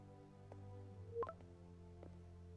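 Phone ringtone tones from a Spider-Man video game scene, a few short electronic beeps over a steady low background hum, with a brighter blip near the middle, faint and close.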